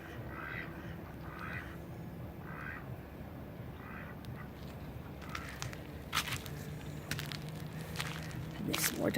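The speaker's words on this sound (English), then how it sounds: "Hi ducks, how are you doing? Duck, duck, quack," Ducks quacking at a desert lake, a few separate nasal quacks early on followed by sharper honks and calls, mid-distance over a steady outdoor background.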